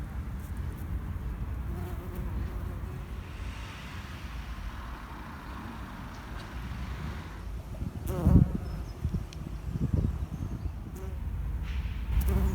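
A common carder bumblebee forages on red clover flowers outdoors, and a soft insect buzz hums beneath steady traffic rumble and breezy background noise, with a few brief knocks near the end.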